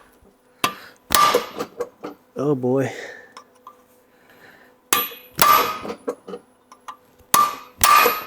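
A hammer striking a chisel on a dowel pin during a supercharger install on a square body truck: sharp metallic blows, one single hit then a pair, followed later by two more pairs, with a voice between them.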